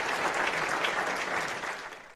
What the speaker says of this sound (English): hands joining in applause